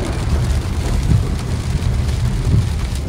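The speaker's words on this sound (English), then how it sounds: "So we're in the middle of a rainstorm right now." Rainstorm in California, rain pouring down as a steady, dense hiss with low rumbling underneath, continuous and fairly loud with no voices.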